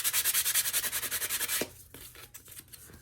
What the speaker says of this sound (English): I'm just going to sand this just to get that sheen off of it